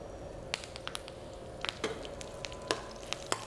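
Whole spices, fennel seeds, cashews, cinnamon pieces and dried chillies crackle in hot oil for a tempering, with faint sizzle and scattered sharp pops and spits at a quiet level.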